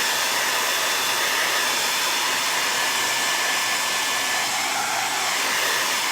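A hair dryer blows steadily and loudly close by, drying a wax finish on painted chinoiserie furniture, its broadband whoosh unbroken for the whole span with no talking.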